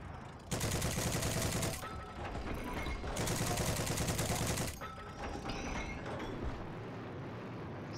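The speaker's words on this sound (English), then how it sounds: "Where is he shooting from?" Gunfire crackles in the video game Heroes & Generals as two long, loud stretches of rapid automatic shots, separated by a short lull, then fades into a quieter mechanical background.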